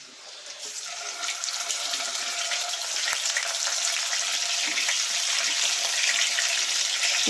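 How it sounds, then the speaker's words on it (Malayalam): Home-dried kadavarala fish frying in hot oil, a bright, steady sizzle that builds slightly and holds evenly throughout with no talking. "ഇനി നമുക്ക് അവിടെ മീൻ എണ്ണയിലോട്ടിടാവേ."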